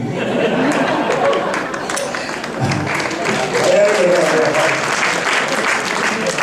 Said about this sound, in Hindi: इस बात और महिलाओं ने विशेष रूप से ताली बजाई